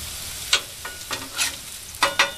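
Bacon frying on a Blackstone griddle, a steady soft sizzle broken by several sharp scraping and stirring strokes of a spatula, close and clear with no talk.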